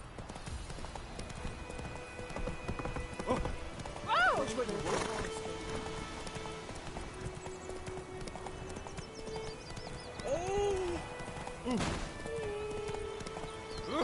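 Rhythmic hoofbeats of a horse trotting in The Witcher video game, steady and fairly quiet, with occasional whinnies and snorts and speech from game characters over the top.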